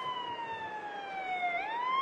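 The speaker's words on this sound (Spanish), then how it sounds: "yo escucho una ambulancia y me parece que Randy Orton también la escuc" An ambulance siren wailing in a wrestling arena, a steady gliding tone that dips and rises again, fairly faint and distant, with no voices over it.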